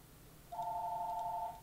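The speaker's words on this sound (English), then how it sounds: "And stupid phone." A telephone gives one steady electronic ring tone lasting about a second, clear and isolated against a quiet background hum.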